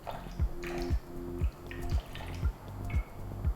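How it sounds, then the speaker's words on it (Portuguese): Water is added drop by drop into Neapolitan pizza dough, a regular series of about seven soft drips roughly every half second, close and quiet. "Agora tem que contar gotas."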